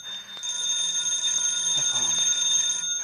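A telephone rings in a 1948 radio suspense drama, a steady bright electric bell ring lasting a couple of seconds, close and clear with no talk over it.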